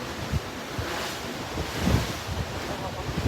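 Cold wind blowing hard across the open deck of a cruise ship, a steady broadband roar with faint surf-like swells beneath, continuous and close to the microphone.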